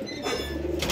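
High-flyer pigeons at a home loft in Liluah, Howrah, give a short, low, throaty coo up close over faint background noise.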